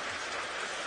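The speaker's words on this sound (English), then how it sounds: "Try and keep the rain away." Rain falling on an open vehicle during an early morning safari drive, a dense steady hiss of drops pattering close by for a brief moment, with no talk.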